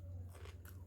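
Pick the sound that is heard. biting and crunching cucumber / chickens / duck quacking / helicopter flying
biting and crunching cucumber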